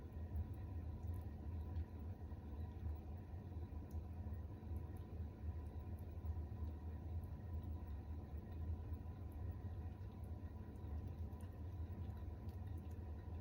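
A potter's wheel spinning while clay is pulled up, a low, steady motor rumble with a faint whirring hum, constant and close, no talking.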